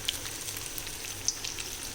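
Mustard seeds, cumin and chana dal frying in oil for a coconut-tomato chutney tempering, a steady close hiss of sizzling with a few small pops and crackles throughout.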